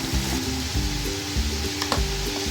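Garam masala for aloo dum biryani frying in a pan, a steady close sizzle with intermittent stirring scrapes and clinks.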